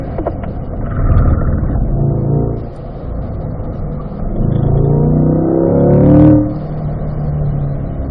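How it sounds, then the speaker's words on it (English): A car on a racetrack accelerating hard uphill, its engine note rising and swelling loud and close, easing briefly, then climbing again to a strong peak before settling into a steady drone. "Accelerate hard up the hill."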